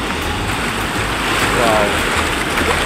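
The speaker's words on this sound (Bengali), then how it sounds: "আমরা সমুদ্রের কাছাকাছি, পানির কাছাকাছি, পানির গর্জন" Sea waves roar at Cox's Bazar beach as a dense, continuous wash of surf noise fills the scene, with faint wind buffeting the microphone and no clear voices.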